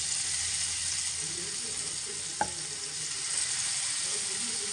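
A marinated fish piece fries steadily in hot oil, a continuous close sizzle with one brief clink partway through and no voices.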